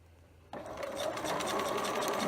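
A sewing machine with a twin needle starts up and runs steadily, stitching a flatlock seam on boxer shorts; a close, continuous whirring hum after a brief quiet start.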